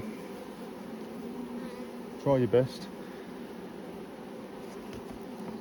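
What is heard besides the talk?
honey bees droning and fanning in a queenless hive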